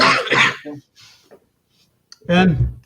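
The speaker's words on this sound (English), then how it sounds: "The cough's back." A short cough-like burst and throat sounds, with voices talking before and after, loud and close.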